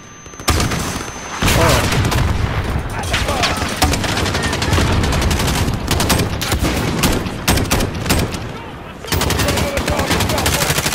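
Covering gunfire in Call of Duty Modern Warfare: dense, close automatic rifle bursts and booming shots rattle almost nonstop, broken by brief pauses, with voices calling out underneath.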